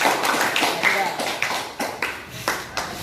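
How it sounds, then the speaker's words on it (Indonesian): Students in a classroom clap their hands in a quick series of sharp, distinct claps with an uneven rhythm, close and moderately loud, with voices mixed in around them. "Baik, tepuk tangan."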